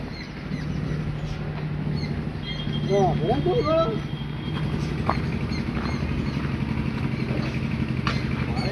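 A new motorbike's engine idles with a steady low drone throughout, while people talk over it nearby.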